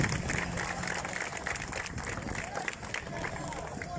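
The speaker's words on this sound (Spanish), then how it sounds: "Un fuerte aplauso para Freddy." Steady crowd applause with a murmur of voices underneath, moderately loud and continuous, at the opening ceremony of a women's basketball tournament.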